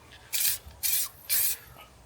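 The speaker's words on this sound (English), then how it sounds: "we're just going to go down the corners bit by bit until we spray it all" Spray paint hisses onto cardboard offcuts inside a campervan in three close, loud bursts of about a quarter to half a second each, separated by brief quiet gaps, with no talking.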